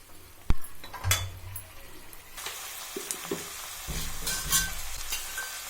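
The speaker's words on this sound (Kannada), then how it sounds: "ಮಟನ್ನು ಒಂದು 5 ನಿಮಿಷ ಫ್ರೈ ಆಗಲಿ." Cooked mutton pieces fry in a hot pan, a steady sizzle broken by sharp clinks and scrapes of a spoon stirring against the metal, loud and close with no talk.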